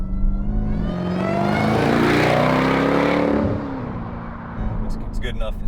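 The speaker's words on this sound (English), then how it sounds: "I love the sound of just superchargers" Supercharged, modified Jeep Trackhawk making 975 hp accelerating hard, its engine swelling to a loud, steady roar with supercharger whine for a few seconds before easing off, with people talking in the cabin.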